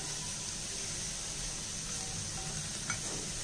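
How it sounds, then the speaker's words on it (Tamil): Pirandai (adamant creeper) sautéing in a pan, giving a steady, even sizzle with soft stirring noise throughout and one small clink near the end. "இப்போ இதையும் நல்லா வதக்கிடணும்."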